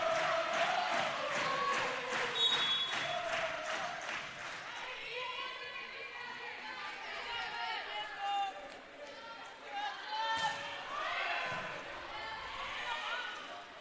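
Packed crowd at a women's college volleyball match against AIC cheers and roars steadily for a long stretch, with a play-by-play commentator talking over the noise throughout.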